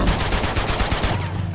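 Rapid automatic gunfire from the video game Uncharted 2: Among Thieves, a loud, dense burst of shots in quick succession, cutting off abruptly near the end.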